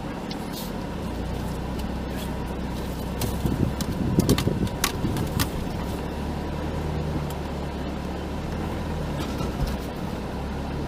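A vehicle driving forward and turning in a parking or cave-area setting, with a steady low engine rumble throughout, a brief rise in the middle and faint clicks and rattles over it.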